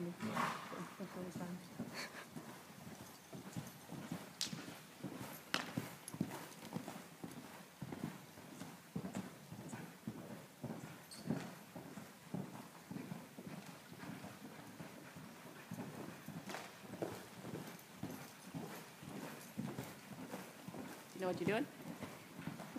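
A horse walking with its hooves clip-clopping in a steady, moderately close rhythm, while people talk over it and the saddle creaks and bounces.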